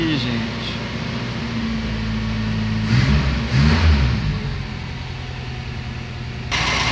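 A Ford Del Rey automatic engine running cold on a Solex H-30 34 carburetor, a steady low idle with a brief rise in revs near the middle, while people talk over it throughout.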